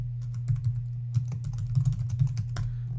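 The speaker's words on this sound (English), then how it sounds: "So I'm going to type in here" Rapid typing on a computer keyboard while filling in a Twitter sign-up form, a steady run of close, crisp key clicks over a low hum, with no talking.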